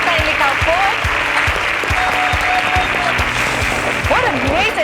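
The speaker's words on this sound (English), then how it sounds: "Kindly, a round of applause for Kiarie." An audience gives sustained, even applause for a winner at a Kenyan competition grand finale, while a voice speaks over the clapping throughout.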